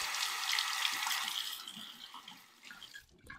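Running tap water rinsing a Merkur Futur safety razor at a sink, a soft steady splash that fades toward the end, close and quiet, with no talking.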